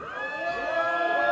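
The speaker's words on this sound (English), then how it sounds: "Now on the count of three, I want y'all to cheer for number one." Crowd cheering at a rap concert costume contest: a short burst of shouting and whooping voices, moderately loud and building slightly toward the end.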